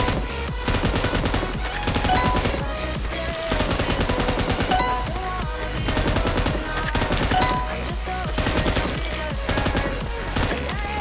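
An M249 machine gun in PUBG Mobile fires at practice targets in long, continuous automatic bursts, a loud, dense and steady clatter lasting the whole stretch with no voices.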